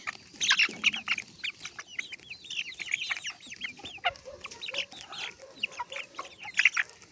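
A flock of two-month-old chicks clucks and cheeps continuously while pecking corn, many overlapping chirpy calls at moderate distance with no talking.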